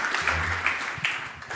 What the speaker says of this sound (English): Big round of applause, please, for Alice.